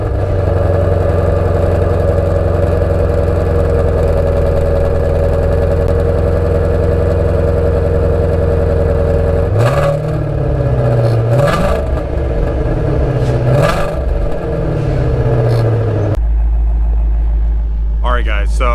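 A Ford Mustang Shelby GT350 engine rumbles at a steady, loud idle, then is blipped through several short revs that rise and fall before settling back into a deep idle.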